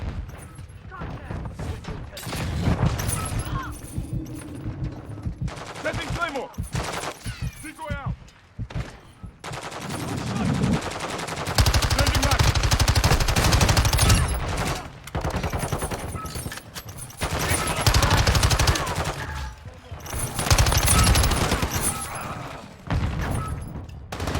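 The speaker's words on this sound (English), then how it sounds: "I'm taking fire!" Gunfire in Call of Duty Modern Warfare 2, with close bursts of automatic shots and crashing impacts that come and go in waves, along with shouted voices and game sound.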